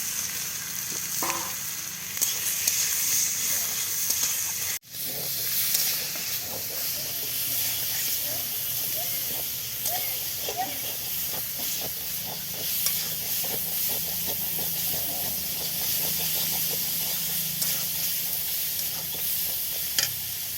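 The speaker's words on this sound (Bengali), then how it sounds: "ওই পেঁয়াজের উপরে এই মাছ কটা আমি দিয়ে দিচ্ছি" Prawns frying in a pan over onions, a steady sizzle and hiss with stirring scrapes running throughout, close and fairly loud, with a brief dropout near the five-second mark.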